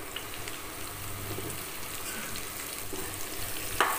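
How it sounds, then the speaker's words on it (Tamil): Mushrooms sautéing with softened onions in a pan give a low, steady sizzle, with one brief sharp clink near the end; no one speaks. "போட்டுட்டு நல்லா வதக்கிக்கலாம்."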